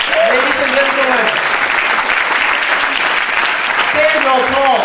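Audience applause at Cambridge Malaysia Night, sustained loud clapping from a crowd with a voice talking over it at the start and again near the end.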